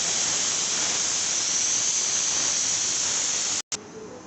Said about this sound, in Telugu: పప్పు కానీ విజిల్ 2 వచ్చింది,